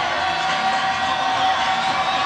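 A college basketball crowd on its feet in an arena, cheering and whooping at a dense, steady, loud roar for a couple of seconds without a break.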